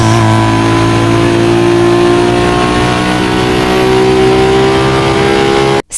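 Nissan Skyline R34 with stock engine in the game Need for Speed Most Wanted, a loud steady engine drone with clear harmonic tones slowly rising in pitch, cutting off abruptly at the end.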